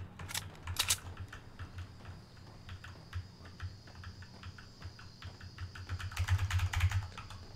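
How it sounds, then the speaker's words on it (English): Clicky mechanical computer keyboard typed in rapid, uneven bursts during a Fortnite session, keystrokes close and fairly quiet, with a denser flurry near the end and no talking. "All I can hear is my clicky keyboard now from now on out."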